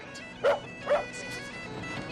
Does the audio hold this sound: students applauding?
no